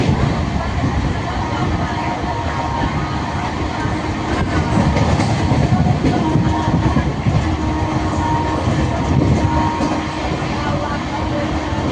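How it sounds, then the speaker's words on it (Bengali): Steady broadband rumble and rattle of a moving passenger train heard from inside a carriage, continuous and fairly loud for the whole stretch, with faint voices mixed into the background. "তো দেখো ট্রেনে আমি বসেই আছি, একটু ভিডিও করে নিচ্ছিলাম।"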